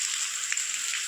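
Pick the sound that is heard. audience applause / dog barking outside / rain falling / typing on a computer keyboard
rain falling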